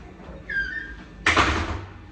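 A bedroom door shut once, a single loud thud with a brief rattle after a faint creak of movement.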